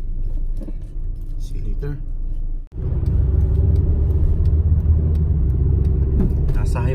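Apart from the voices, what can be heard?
car driving on a highway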